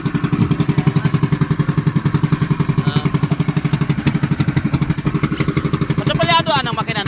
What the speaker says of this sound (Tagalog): Matsapalyado ang makina no?